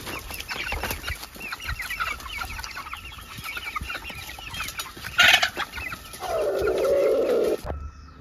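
Hens clucking on a farm, a steady run of close, busy clucks and calls, with one louder squawk partway through and a longer raspy call near the end.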